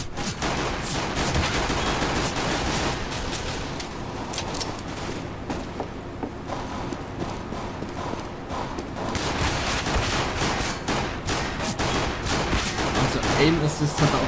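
Rapid gunfire from the video game CS:GO, dense bursts of shots and automatic fire continuing almost without pause, with game effects layered in.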